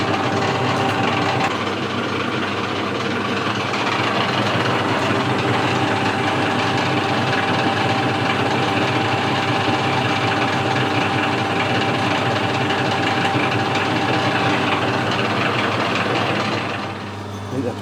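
A metal lathe turns a taper by the offset tailstock method, giving a steady mechanical whir and hum that holds evenly for most of the span. It stops near the end, and no one talks over it.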